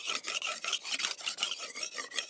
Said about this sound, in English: Li Guilin is carefully sharpening his sickle.